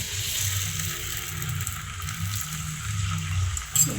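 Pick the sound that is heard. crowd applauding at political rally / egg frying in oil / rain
egg frying in oil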